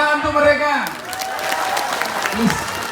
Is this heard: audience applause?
yes